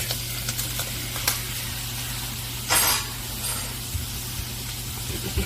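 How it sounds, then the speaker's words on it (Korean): Minced garlic and squid stir-frying in a hot pan for spicy-sweet squid stir-fry: a steady, close sizzle with occasional louder hissing bursts and light stirring scrapes throughout. "다진 마늘을 살짝 볶아주시다가 준비된 오징어를 바로 투하해 주십시오."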